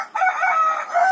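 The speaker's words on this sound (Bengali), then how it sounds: "এগুলো হচ্ছে দেশি মুরগি" Desi chickens in a bamboo and wood coop give a loud, close crowing call with clucking tones, one drawn-out cry after a short pause, with no talk.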